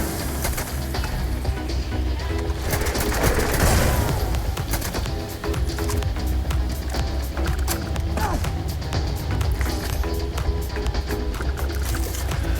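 The Despondent Assassin rifle in Starfield fires quickly through the scope, a dense run of cracking shots layered over constant loud battle noise and game ambience.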